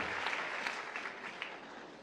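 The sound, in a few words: congregation applauding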